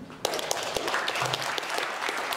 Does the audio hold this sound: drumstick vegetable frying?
no